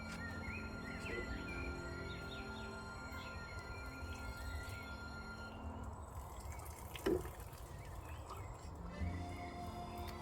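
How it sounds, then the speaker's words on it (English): Water poured from a container onto the root ball of a small tomato seedling gives a soft, faint trickle and splash against a quiet background, with a brief louder knock partway through. "So let me just put some water on it."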